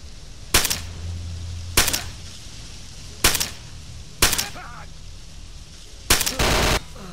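Five sharp gunshot bursts in the video game Stalker: Oblivion Lost, spaced roughly a second apart, each a loud crack with a short tail, the last followed by a brief sustained burst.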